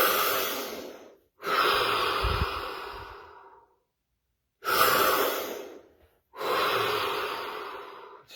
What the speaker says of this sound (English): So here we go, 3 deep breaths.